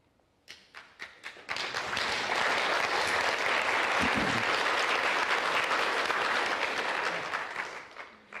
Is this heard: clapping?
yes